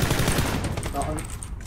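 Gunfire crackles in the PUBG video game as a dense, continuous burst of rapid shots filling the short moment, with a voice faintly under it.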